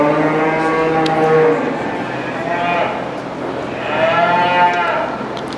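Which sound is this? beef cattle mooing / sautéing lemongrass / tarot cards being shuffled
beef cattle mooing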